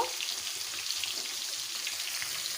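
Rohu fish head and taro stems frying in a pan, a steady hissing sizzle with faint stirring scrapes throughout, continuous and close with no talking.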